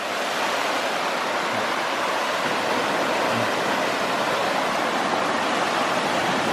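Stream water rushing beneath an overgrown bridge on a Utah hike, a steady broadband wash that is close and constant with no pauses, and no voices.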